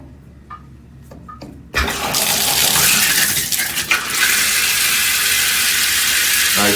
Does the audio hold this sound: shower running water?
yes